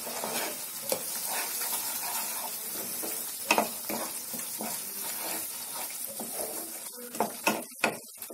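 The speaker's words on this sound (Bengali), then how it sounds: "এক দু মিনিট আমি একটু কষে নেব।" Katla fish with spices sautéing in a pan for maacher kalia, a constant sizzle and fry with intermittent scraping stirs and spoon knocks, a few sharper taps near the end.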